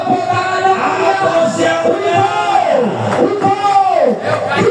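A crowd at a goat contest in Trenggalek cheers and shouts over applause, loud and close, with voices whooping and calling out in long rising and falling yells throughout.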